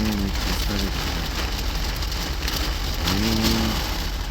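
Heavy rain from a thunderstorm drums steadily on a truck in Arizona, a constant dense wash of noise with a low engine hum and brief tonal whines underneath.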